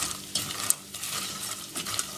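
A utensil scrapes and rattles as popcorn is stirred in a pot, with light sizzling and a few metallic clinks, close and without talk.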